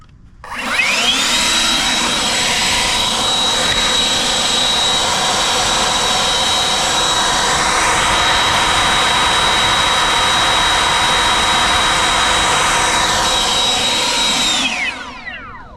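A cordless leaf blower in its normal low mode spins up to a loud, steady whooshing roar with a high whine, holds for about fourteen seconds, then winds down, alone and close.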